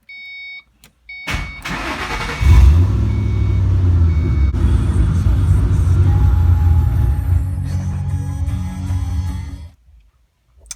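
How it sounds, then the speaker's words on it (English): A Ford Mustang S197 with the Coyote engine cranks, fires up and settles into a loud, close idle that rumbles steadily for several seconds before shutting off, accompanied by a faint warning chime. "we're going to go ahead and turn the car on and start it"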